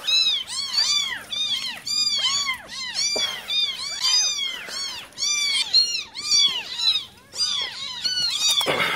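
Several cats meow repeatedly and insistently, close by, their overlapping cries coming in quick succession with brief pauses.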